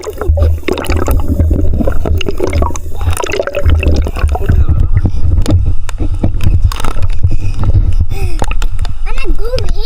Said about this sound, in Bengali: আমি এখন অনেক কষ্ট করে এক হাত দিয়ে সাঁতার কাটছি